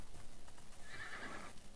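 A horse neighs at a stable in the video game Might and Magic VI, a single bright whinny rising out of a steady background of hooves and ambience, fairly faint but clear, with no talking.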